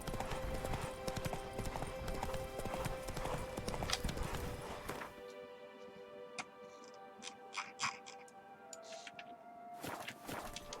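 A horse ridden in The Witcher 3 video game: hooves clip-clop at a steady walking rhythm, loud over busy game ambience at first, then sparser and clearer against quieter surroundings.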